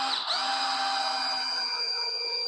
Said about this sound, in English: not putting much force down onto the drill bit